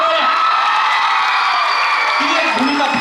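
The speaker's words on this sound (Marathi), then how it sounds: "जोरदार टाळ्या" Audience clapping and cheering at a Marathi cultural stage program, a dense steady wash of applause with whoops, holding loud and continuous throughout.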